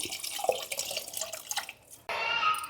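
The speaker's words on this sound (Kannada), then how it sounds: "ಖಾರ ಕುಟ್ಕೊಂಡಿದ್ನಲ್ಲ ಆ ನೀರನ್ನೂ ಹಾಕತಾನೆ" Water left from pounding chilli is poured into a cooking pot of boiled field beans for a saaru, a steady splashing trickle that briefly stops and then returns louder and brighter near the end.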